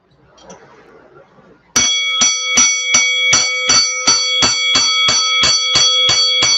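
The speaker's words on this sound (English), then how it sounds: "Fight bell salute to you." A fight bell rings in a rapid, steady series of about fifteen loud metallic dings, following a few seconds of quiet background murmur.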